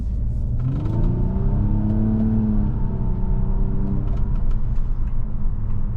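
A 2023 Nissan Maxima SR in sport mode with paddle manual shifting drives down the road, its steady engine hum rising in pitch through the gears under a constant road and cabin rumble.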